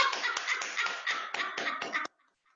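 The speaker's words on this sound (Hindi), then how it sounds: "तो ताली बजाते हैं।" Joyful group applause, a dense run of hand claps lasting about two seconds before stopping abruptly into near silence.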